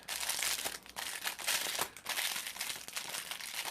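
Close, steady crinkling of a plastic bag being handled, rustling continuously with brief pauses and no talking.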